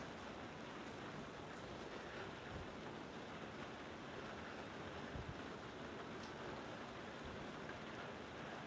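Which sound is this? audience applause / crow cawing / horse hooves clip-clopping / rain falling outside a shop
rain falling outside a shop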